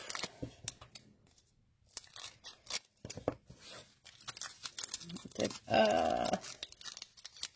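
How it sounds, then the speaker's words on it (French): Pokémon card booster packs from the Sun & Moon Celestial Storm set being ripped open by hand, a burst of crinkly foil tearing near the end amid scattered handling rustles and quiet speech. "les boosters c'est mal ouvert, c'est déchiré"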